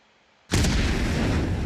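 A grenade explodes in the game Soldier of Fortune II Unreal Edition: after a short quiet moment comes a sudden loud blast that rolls on as a heavy, sustained roar.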